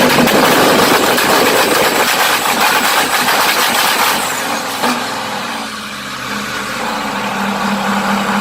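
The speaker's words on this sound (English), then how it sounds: "I bet you've never seen a Scania revving a casual V8 with 30 pounds of boost" A heavy Scania truck fitted with a V8 on 30 pounds of boost revs loud and close, roaring steadily, then eases back to a deeper, lower rumble near the end.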